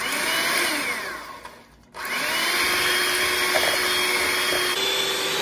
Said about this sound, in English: I like to use a hand mixer.